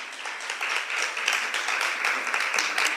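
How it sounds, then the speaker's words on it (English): An audience gives a steady, dense round of applause for YALI Fellows, many hands clapping together at an even volume for the whole three seconds. "A big round of applause for our YALI Fellows."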